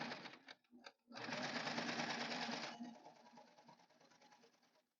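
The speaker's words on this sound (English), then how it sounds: "I'm just going to serge these two seams together." An overlock serger sewing machine stitches two seams together, a few short start-stop bursts followed by a loud, steady, fast whirring run that softens toward the end, close up with no talking.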